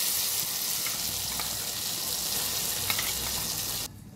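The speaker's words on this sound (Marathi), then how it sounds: "त्या मिश्रणाला फोडणी टाकण्यासाठी चटणीसाठी जिरे टाकून घ्यायचे." Cumin seeds sizzle in hot oil as a tempering for peanut chutney, a soft, steady crackling hiss that holds evenly, then cuts off abruptly near the end.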